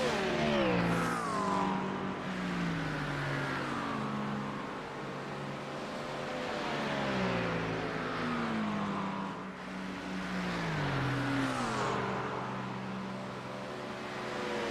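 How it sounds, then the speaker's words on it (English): Race cars in the iRacing simulation at Watkins Glen, engines revving and shifting through the gears in repeated rising sweeps, one loud car near and steady for the whole stretch. "We've got a car coming out the pit lane, but they'll be well clear of that as they head up the hill."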